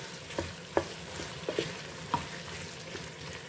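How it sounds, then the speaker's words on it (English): Curry ingredients frying together in a pan, a soft steady sizzle broken by a few light clinks and scrapes of stirring, no voices. "Let's fry that all together, guys."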